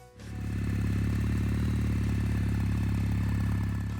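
A Kawasaki W800 773 cc air-cooled parallel twin motorcycle engine starting up and settling into a steady, even idle, close and loud with a deep continuous rumble and faint mechanical clatter, no talk.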